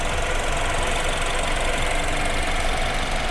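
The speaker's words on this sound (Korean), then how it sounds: "엔진 소리 일정합니다" A BMW 420i M Sport Gran Coupe (F32) idles under an open hood, its engine droning at a steady, even level from close by in the engine bay, with no talk over it.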